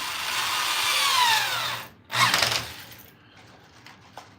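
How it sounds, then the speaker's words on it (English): A power drill drives screws into a comic book man cave fixture to stop sagging, a loud whirring run that winds down, then a short second burst fading to quiet handling noise. "So just putting a couple of screws in to prevent that."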